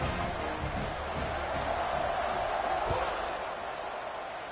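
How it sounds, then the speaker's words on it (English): Football stadium crowd buzzing after a touchdown, a steady broad roar of many voices holding at an even level throughout with scattered low thumps beneath. "this crowd is buzzing after that last score"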